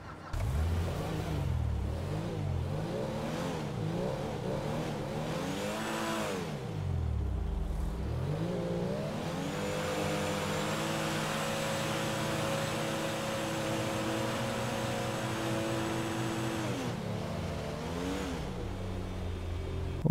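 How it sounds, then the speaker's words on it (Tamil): A Rolls Royce in GTA 5 starts up and revs repeatedly, its engine note climbing and falling in loud surges before settling into a steady, higher drone, close and continuous with no talk. "இதை வண்டி ஸ்டார்ட் பண்ணுறது ரொம்ப சிம்பிள், ஆக்சிலேட்டர் ப்ளஸ் கிளச்சை மிச்சானா ஸ்டார்ட் ஆகிடும்."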